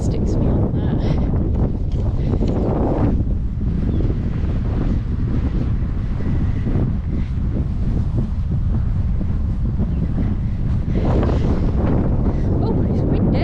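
Strong wind on the Cumbria coast buffets the microphone in a constant, heavy rumble, with louder gusts surging near the start and again toward the end.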